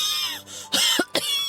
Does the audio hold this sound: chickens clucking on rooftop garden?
no